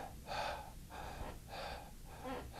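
Quick, shallow breaths drawn in and out high in the chest after a held deep breath, four soft airy pulses in an even rhythm, close and faint with no talk.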